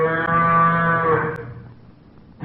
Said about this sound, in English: Yes, it's a cow